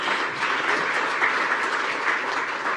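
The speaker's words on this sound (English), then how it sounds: "I will say a big round of applause" An audience at a women's forum panel discussion in Kigali applauds its panelists, a dense, steady wash of clapping that holds evenly throughout.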